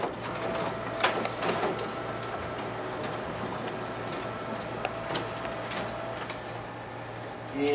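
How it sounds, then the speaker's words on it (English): A Ricoh MP C5501 copier runs test copies through its document feeder, with a steady mechanical whir and rhythmic clicks and ticks of paper feeding, close and continuous throughout. "now we'll go ahead and test out the document feeder on this machine"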